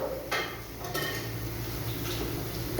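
An egg cooks in a pan with garlic, onion, chili and salt, giving a soft steady hiss broken by a few sharp utensil clanks against the pan, close by and without talk.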